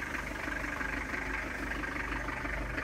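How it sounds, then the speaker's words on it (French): A Citroën C25 van fitted with a CX engine idles: a low, steady, even rumble with a smooth regular pulse, moderately quiet and unbroken, with no voices. "il tourne avec le doux bruit du J5 C25 à moteur de CX"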